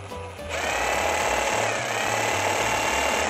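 Cordless reciprocating saw running in orbital rocking mode: a loud, steady buzzing drone kicks in after a short moment and holds constant close up, with no talking.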